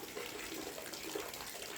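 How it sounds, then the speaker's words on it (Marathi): Water trickles and splashes steadily from one rock-cut cistern into another at a hill fort, a faint, continuous pouring sound with no talking. "या टाक्यातलं पाणी त्या टाक्यात पडताना आपल्याला दिसू शकतं"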